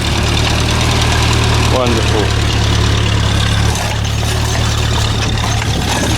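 A vintage four-wheel-drive tractor engine runs steadily at a rally in South Gloucestershire, a continuous low idling rumble with faint knocking vibration, heard close under a voice speaking briefly.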